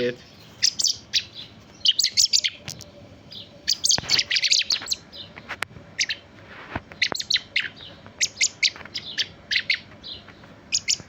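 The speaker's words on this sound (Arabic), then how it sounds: "أفراخ شحرور، طيور كبيرة شباب، عابرة مرحلة الخطر" Young blackbird chicks chirp in quick, high bursts, the calls coming in clusters and pauses, close by against a quiet background.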